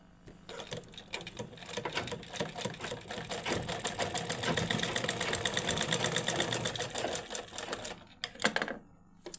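Sewing machine stitching fabric around a flower-style latkan tassel, a steady rapid mechanical whir running nearly throughout at close range, slowing and stopping near the end with a few clicks.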